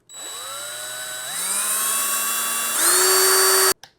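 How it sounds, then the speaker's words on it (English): A powered driver sends a screw into a 3D-printed shelf, its motor whining up in pitch in steps as the screw bites, then cutting off abruptly. "So I'm going to hold this here and then screw a hole in."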